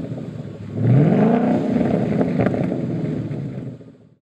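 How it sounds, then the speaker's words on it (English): A car fitted with a Flowmaster Pro Series exhaust and laminar flow mufflers rises into a deep, throaty rev, holds a steady droning tone, then cuts off abruptly. "Pro Series exhaust systems utilize our laminar flow mufflers and create a deep, throaty tone by eliminating higher frequencies."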